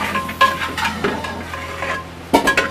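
A spoon stirs a spice mixture of turmeric powder in a cooking pan for a Punjabi dhaba-style dish, scraping and clinking softly against the metal at close range, with a light sizzle underneath and a sharper knock near the end.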